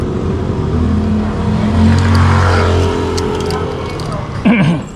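A motor tricycle's engine runs steadily with a loud, close, low drone and some rising revs through the middle, while a voice speaks briefly near the end.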